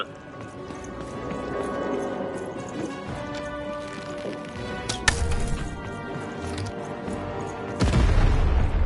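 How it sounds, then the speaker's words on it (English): Cannon fire in the video game Lost in Random: a sharp boom near the middle and a heavier, sustained blast near the end, set against a busy game soundtrack. "Shoot the button to fire the cannon."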